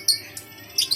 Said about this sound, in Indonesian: ini burung lovebird jenis apa nih mas?